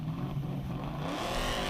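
A 4.7-litre Shelby Mustang accelerates hard off the start line at a hillclimb, its engine note rising into a loud, swelling roar as it pulls away.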